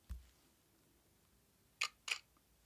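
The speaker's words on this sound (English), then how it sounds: "Last one is miscellaneous, and we've got airbell, camera shutters." A camera shutter sound effect: a soft thud, then two crisp, bright clicks close together near the end, isolated against a quiet background.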